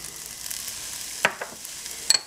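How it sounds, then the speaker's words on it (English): Onions, mushrooms, tomatoes and green peppers sauté lightly in a pan, a quiet steady sizzle broken by a few sharp utensil clinks and scrapes up close. "We're going to lightly saute it."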